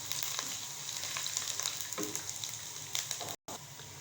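Kofta frying in hot oil for kofta pulao, a steady close sizzle and crackle with small spitting pops throughout, cut off by a brief dropout near the end.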